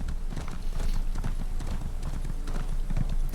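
Horse hooves clip-clop in a steady, close rhythm while riding through a forest in the video game Elder Scrolls Online, with a busy game soundscape around them and no talking.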